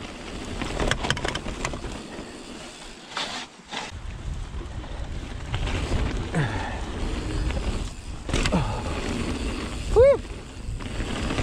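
Strong wind buffets the microphone in a continuous, roaring rumble on the Twrch Trail in South Wales in March, with gusts swelling and easing throughout.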